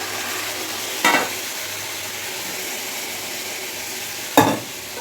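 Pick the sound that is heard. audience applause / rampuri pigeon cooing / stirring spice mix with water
stirring spice mix with water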